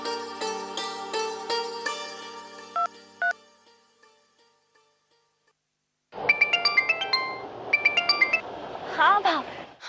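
A phone rings on a call, a melodic ringtone repeating in bursts, then a pause of near silence before a brighter electronic tune plays in quick repeated notes.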